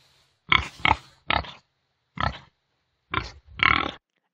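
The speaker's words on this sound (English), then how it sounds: "we have a pretty good amount of oinks, and they seem to be good quality" A pig grunts and oinks six times in short bursts, close and fairly loud, with quiet pauses between calls.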